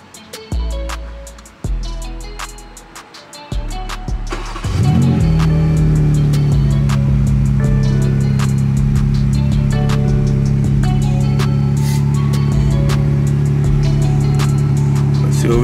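A 2022 BMW M4 Competition fires up nearby: a few short cranking bursts, then the engine catches with a loud flare and settles into a steady, throaty idle.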